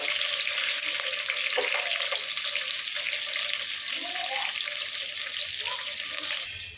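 Onions frying in a pan for bottle gourd sambar, a steady faint hissy sizzle running the whole time with a few soft stirring and clinking touches, no voices.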